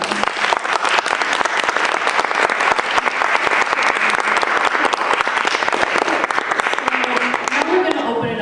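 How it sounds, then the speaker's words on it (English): Audience applause at a panel event, a dense, steady wash of many hands clapping close and loud throughout, thinning slightly near the end. "Can we get a big round of applause for everyone?"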